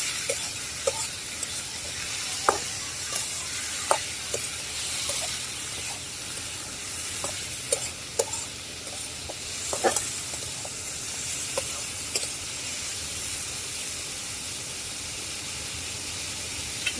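Potato bhaji fries in a pan, giving a steady close sizzle and hiss throughout. Scattered scrapes and light taps from stirring rise above it now and then.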